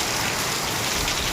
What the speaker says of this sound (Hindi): तो ये देखिए दोस्तों इतना पानी गिर रहा है ना